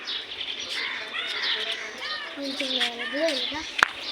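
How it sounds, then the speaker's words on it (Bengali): An oriental magpie-robin, or doyel, sings in short bright chirps and whistles around people chatting nearby, the birdsong partly buried under the voices. "এটা দোয়েল"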